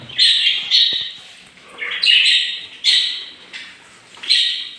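Budgerigars squawk and chirp in a series of loud, close, shrill bursts separated by brief pauses, with no talking.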